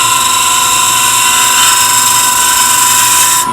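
An end grain hollowing tool cuts into wood spinning on a lathe, giving a loud, continuous high-pitched scraping hiss with a steady hum beneath it.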